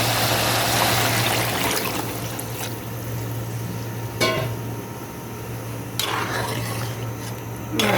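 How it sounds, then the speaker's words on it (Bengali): Chicken stew broth pours into a cooking pot in a continuous liquid rush with a steady low hum behind it and a couple of brief splashy knocks, close and moderately loud. "এই পর্যায়ে আমি চিকেন স্টোর ঝোলটা দিয়ে দিব।"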